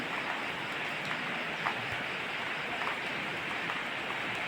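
Steady rain falls across an outdoor pond or marsh where an elephant rests, a dense, even hiss with faint scattered drop ticks throughout and no talking.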